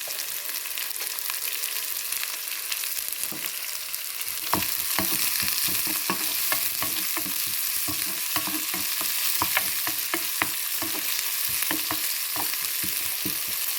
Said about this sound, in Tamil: நான் சின்ன வெங்காயம் தான் தாளிக்கிறேன்